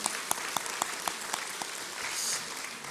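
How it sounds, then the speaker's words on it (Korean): Church congregation at a Sunday worship service applauding in a large sanctuary, a soft, distant wash of many hands with a few sharper rhythmic claps standing out near the start, continuing steadily without talk. "사역을 이끄신 하나님께 영광의 박수 올려드리겠습니다."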